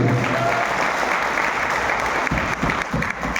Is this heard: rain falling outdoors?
no